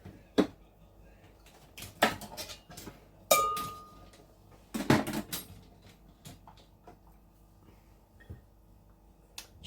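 A small whisk clinks against a bowl while mixing black pepper into spiced flour, giving scattered sharp taps and rattles with quiet pauses between them.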